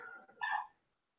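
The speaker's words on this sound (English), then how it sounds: "She just barked from outside." One faint bark from a pet dog outdoors, short and sharp and heard from a distance through a wall, with quiet room tone before it and silence after.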